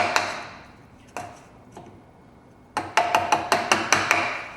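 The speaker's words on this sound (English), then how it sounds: "So keep chiseling until you get to the line." Chisel struck with a mallet while cutting a wooden cross halving joint: three separated knocks, then a quicker run of about eight sharp, close strikes with a short ringing decay, no voices.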